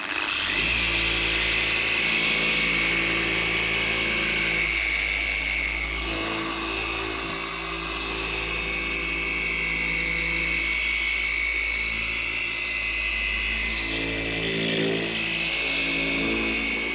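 Rotary polisher turning at low speed on a car headlight lens with glass polish, a steady close whine with a low motor drone and strong high hiss, holding level throughout with slight dips and no talk.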